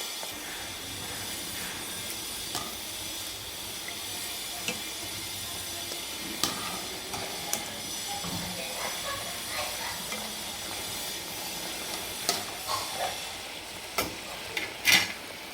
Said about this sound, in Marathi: तर अशा पद्धतीनंच मी पूर्ण पुऱ्या तळून घेणार आहे.